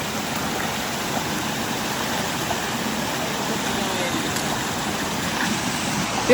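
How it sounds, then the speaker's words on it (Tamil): A river flows near Devkund waterfall, giving a steady, full wash of rushing water that stays even and loud throughout, with a brief bump right at the end. "சார் இங்கே பார்த்தீங்கன்னா வந்து ஒரு நதி ஒன்று போயிட்டுருக்குங்க"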